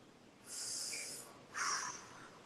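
Slow, deliberate breaths during a face yoga exercise: two long, airy inhales and exhales drawn close to the mic, with a short pause between them and no talking.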